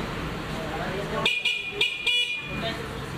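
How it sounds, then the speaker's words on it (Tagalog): A Euro Samurai 155i scooter's horn sounds in a few close, loud, bright blasts in quick succession over an outdoor background, with someone talking around it. "Malakas din yung busina nito mga pare."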